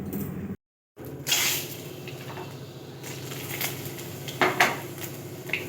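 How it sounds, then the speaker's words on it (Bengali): Dried red chillies, bay leaf and fennel seeds go into hot oil in a pan to temper, bringing a soft crackle and scattered clinks of metal on metal over a steady kitchen background, with a short silent gap near the start. "এবার ফোড়ন দেবো শুকনো লঙ্কা, তেজপাতা আর মৌরি।"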